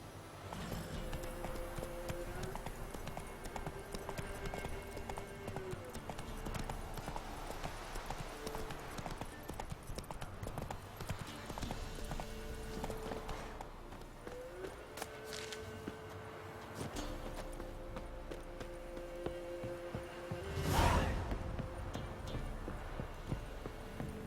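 Geralt's horse Roach galloping in The Witcher 3, a steady rapid clip-clop of hooves carrying on for the whole stretch under game music, with a loud burst of noise near the end.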